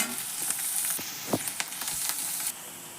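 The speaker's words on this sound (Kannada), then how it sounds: "ಹಾಗಲಕಾಯಿಗಳು ಅವನ್ನ ಹಾಕೋತೀನಿ ರೀ ಎಣ್ಣೆ ಒಳಗೆ ಅಷ್ಟು ಫ್ರೈ ಆಗಲಿ." Boiled bitter gourd pieces fry in oil for palya with a soft, steady sizzle, a few clinks from stirring, and a faint drop in level near the end.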